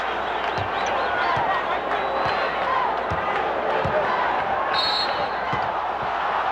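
Arena crowd at the 1991 NBA Finals Game 2, Bulls versus Lakers, cheering Chicago's defense: a loud continuous roar with repeated basketball bounces thudding underneath, a sharp whistle-like squeal near the middle and some voices mixed in.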